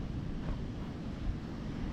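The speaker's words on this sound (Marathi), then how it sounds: "सकाळी सकाळी वारा भरपूर आहे आज त्यामुळे समुद्राला लाटा पण मोठ्या आहेत" Strong morning wind blows over a sea with big waves, giving a constant loud roar with rumbling surf and wind buffeting the microphone. No one speaks.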